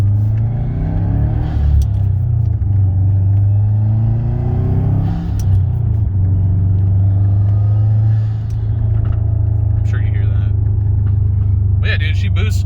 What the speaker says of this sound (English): You can hear that wastegate working too.